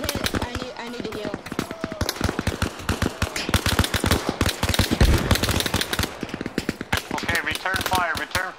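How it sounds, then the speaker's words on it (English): Rapid machine gun fire in the Arma Reforger military game, dense repeated bursts of sharp shots running almost continuously, loud and close, with voices speaking over the gunfire. "Gunner, lay down fire on them."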